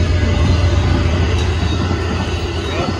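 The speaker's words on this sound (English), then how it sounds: "Here comes Amtrak." An Amtrak Texas Eagle passenger train passing close by, a loud, continuous roar of wheels and rail rumble holding steady throughout with no breaks.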